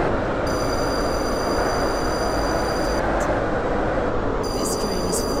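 Simulated passenger train running in the Roblox game SCR, on a trip from Stepford Central to Port Benton: a steady, dense rumble of wheels and motor that holds through the whole stretch, with a faint high electronic whine on top.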